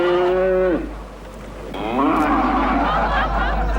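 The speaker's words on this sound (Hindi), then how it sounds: "मुंबई में मुझे कहीं से भी भैंस की आवाज नहीं मिल रही थी।" A buffalo gives a loud, close, drawn-out moo with a strong tonal pitch, breaks off briefly, then lets out a second long, wavering call.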